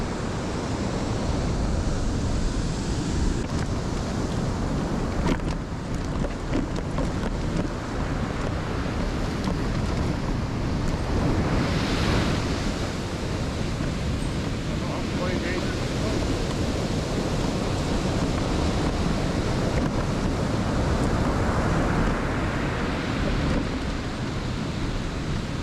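Ocean surf breaking on a flat beach after a hurricane, with a constant loud roar of white water and gusting wind buffeting the microphone throughout, no break in the noise.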